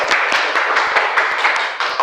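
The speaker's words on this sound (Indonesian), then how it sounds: "Oke, tepuk tangan." Participants in a teacher-training class session clap their hands together in quick, rhythmic bursts, a dense run of sharp claps filling the whole moment without any talk.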